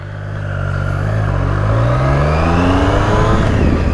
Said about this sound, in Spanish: con lo que acabas de escuchar ahora, el motor y el sonido del motor